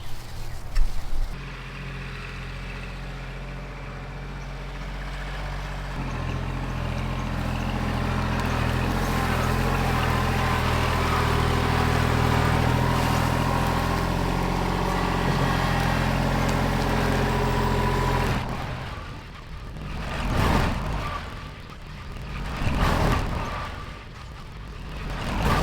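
A farm tractor engine runs with a steady, low, droning hum for most of the stretch, then gives way to quieter, uneven rumbling and handling noises near the end.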